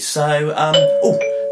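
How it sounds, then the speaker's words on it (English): A house doorbell chimes with sustained two-tone ringing under a man's speech, the tones held and overlapping near the mic. "that's the doorbell. Maybe that's the postman."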